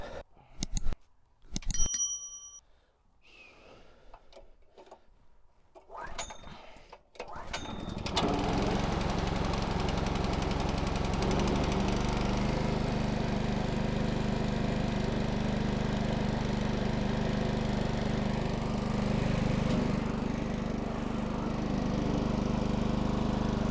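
A small water pump engine on a smallholding is started with a few sharp clicks and pulls, then settles into a loud, steady continuous running drone for the rest of the time, with no talking.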